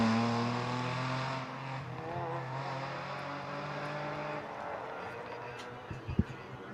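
Rally cars at the Rally Mariña Lucense in Galicia give a droning engine tone that slowly shifts in pitch, then a few sharp knocks and pops near the end over outdoor background noise.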